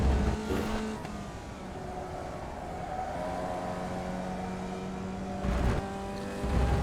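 A racing car engine in a sim racing video game drones steadily with shifting harmonic tones, rising in loud revving bursts near the start and end.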